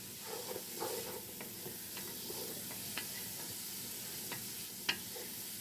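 Onions frying in a pan give off a soft, steady sizzle, with occasional stirring scrapes and one sharper clink near the end, all close and fairly quiet.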